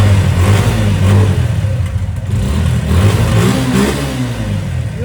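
A Suzuki GSXR 150 motorcycle running on its stock exhaust gives a loud, close, steady engine rumble with a few gentle revs that rise and fall, fairly muted in tone, with no speech over it.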